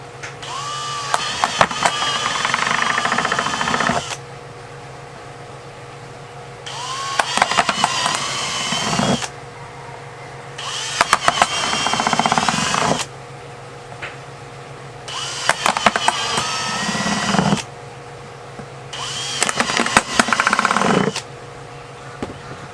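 A power drill bores drainage holes through four stacked pieces at once in an outdoor setting, running in several loud bursts of a few seconds each with quiet gaps between them.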